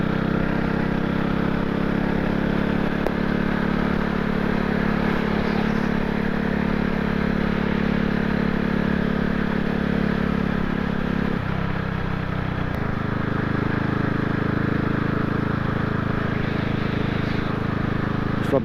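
A CCM Spitfire motorcycle engine runs steadily on a ride out as the throttle rolls on and off, its loud, continuous drone dropping in pitch partway through over rushing wind.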